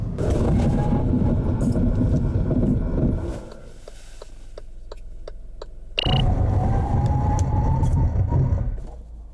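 2017 Kia Morning and Chevrolet Spark cars in a braking test, with loud, steady road and engine rumble that drops to a quieter hum with sparse clicks midway, then swells back before easing off at the end.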